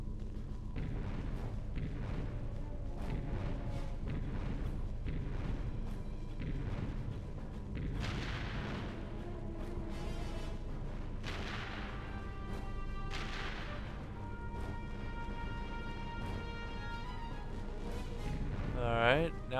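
In Ratchet & Clank (2002), a turret cannon fires repeatedly at incoming missiles, heavy rhythmic booms and blasts with electronic tones over game music, loud throughout.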